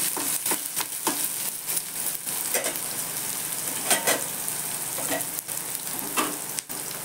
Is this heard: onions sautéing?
yes